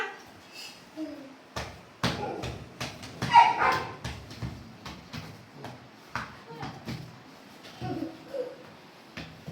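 Children take turns imitating a dog, giving short bark-like yelps and whimpers in quick bursts, with brief pauses between them.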